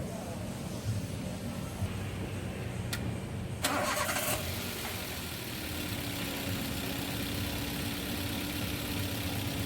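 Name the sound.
Daihatsu Terios engine starting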